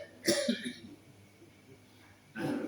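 Two separate coughing bursts from a man in an Indonesian religious talk, one near the start and one at the end, close and moderately loud against a quiet room.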